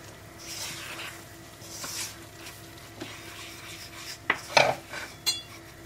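Gram flour roasting in a pan for besan ladoo, with soft scraping stirs followed by a few sharper metallic clanks of spoon on pan near the end, close and fairly quiet, no talking.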